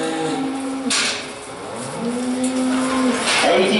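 Dairy cows low and moo repeatedly at a farm dispersal auction, the calls fairly close and drawn out against a steady sale-ring background.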